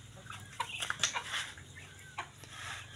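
Chickens cluck in short, irregular bursts at close range on a farm, with a steady low hum running underneath and no talking.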